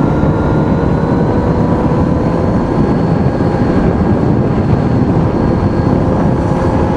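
A Kawasaki Z900RS motorcycle engine roaring as it accelerates past mid revs through city traffic, a loud, continuous, dense drone heard alone without talk.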